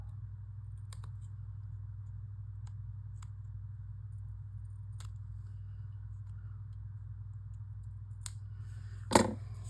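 Sparse, crisp scissor snips trimming a piece of card, spaced irregularly over a steady low electrical hum, with a slightly louder cut near the end.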